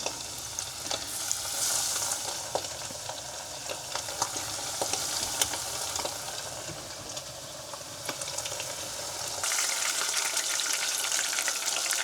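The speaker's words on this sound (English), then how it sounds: "put some oil in here to fry it up" Fish fillets sizzle and crackle steadily in hot oil at a winter campsite, a close, continuous frying hiss with occasional pops throughout.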